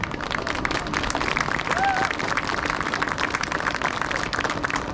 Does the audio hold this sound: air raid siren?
no